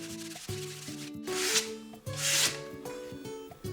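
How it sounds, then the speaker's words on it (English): Sanding the wooden deck of a fingerboard ramp, with two longer rough bursts of abrasive rubbing over a steady tonal background hum, close and fairly loud. "Next up, I sanded the deck"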